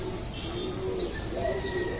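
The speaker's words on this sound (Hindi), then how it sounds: "कबूतर" Racing pigeons coo softly and steadily, close by, with low throaty calls repeating over faint background noise.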